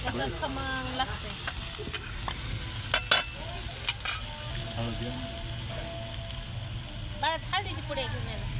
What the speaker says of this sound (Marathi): आणि अजून ते बी उकळीत फुटलेलं मिरची लसूण.